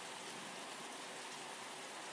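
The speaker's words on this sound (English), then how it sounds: "Then came a big storm, with heavy rains pouring down from the sky." Heavy rain pours down in a storm as a steady, dense hiss that stays even throughout, with no voices over it.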